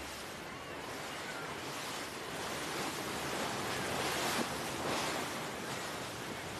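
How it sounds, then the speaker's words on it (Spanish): Rough sea off the rocky coast of La Gomera, heard from the stern of a motor launch, a steady roar of waves and rushing water mixed with wind noise, continuous and fairly loud. "la mar se agita y golpea fuerte contra los roquedales"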